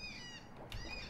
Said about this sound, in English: look at that bird.